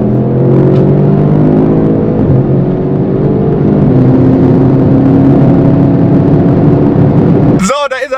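Audi RS7 with 600 PS pulls away under a loud, close engine drone that climbs steadily in pitch through a couple of gear changes, with a brief voice right at the end.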